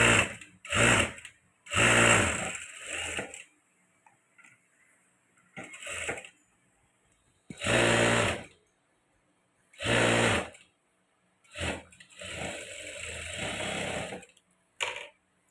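A sewing machine stitches a princess-cut blouse sleeve in about eight short, loud whirring bursts, separated by quiet pauses of a second or two.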